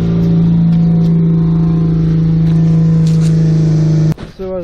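A Nissan Sentra B15 engine runs after a cold start, holding a loud, steady idle drone close to the microphone that cuts off abruptly near the end.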